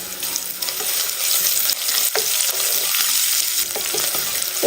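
Ginger and garlic sizzle loudly in hot oil in a pan while being stirred, a continuous close frying hiss with occasional scrape and clack of the spoon against the pan.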